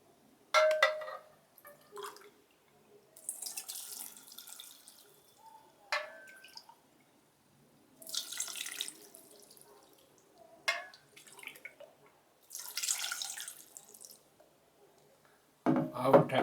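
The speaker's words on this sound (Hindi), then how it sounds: "फिर उसमें 3 कप पानी मिलाएंगे।" Water is poured into a microwave-safe bowl holding Maggi noodles, giving several short splashing, trickling bursts separated by quiet pauses, close and fairly soft with no talking.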